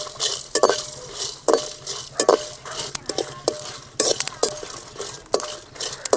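Ten dried red chillies with salt being stirred and roasted in a hot pan, a spoon scraping and clinking against the metal in brisk repeated strokes, close and busy with a faint sizzle underneath.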